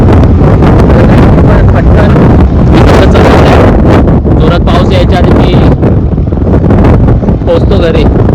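Strong wind buffets the microphone outdoors in heavy gusts, a loud rumbling roar throughout, with a voice talking under it.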